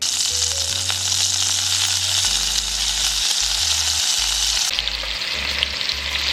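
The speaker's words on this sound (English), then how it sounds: "we're going to sear our beef until they are brown on both sides" Beef pieces searing in hot oil in a Dutch oven, a loud, dense, continuous sizzle with a low hum running beneath it.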